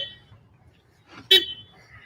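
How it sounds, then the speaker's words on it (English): A single short car horn toot sounds at a drive-in Christmas Eve church service, over a low, steady background rumble, with quiet stretches before and after. "by honking your horns, by applauding"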